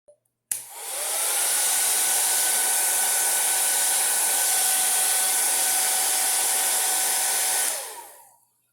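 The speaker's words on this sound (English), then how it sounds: "I'll use my hairdryer now." A hair dryer blows steadily on wet watercolor paper for about seven seconds, a loud, even whooshing hum that clicks on sharply and winds down at the end.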